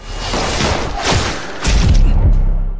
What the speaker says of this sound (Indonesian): mereka pun saling menembak satu sama lain